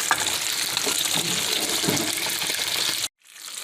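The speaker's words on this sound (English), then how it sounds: "Okay, so I have the sauce right here in my pan." Buffalo wing sauce cooking in a pan on the stove gives a steady, close bubbling sizzle for about three seconds, then cuts off abruptly and returns faintly.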